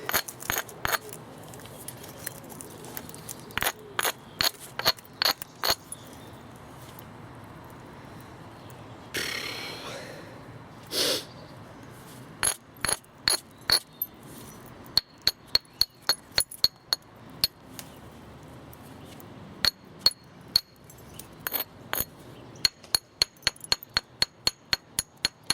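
English flint being knapped into a large thin biface: dozens of sharp, glassy clicks and chinks struck close up in irregular bursts, with a brief scraping rub partway through and no voices.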